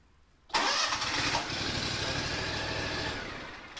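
A Toro Sand Pro 2040Z engine cranks and catches after a brief quiet moment, then runs at a steady close, loud idle before easing off at the end.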